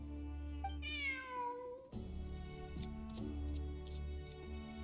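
A video game cat gives a clear, rising-then-falling meow near the start, followed by steady in-game background music and soft ticking sounds.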